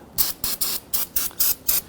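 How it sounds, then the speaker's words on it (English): A spray can of cleaner is pumped in a rapid rhythm, about seven short hissing bursts close by with brief pauses between them, during rear brake hose replacement on a Ford Taurus. "Give that a spray and wipe this down."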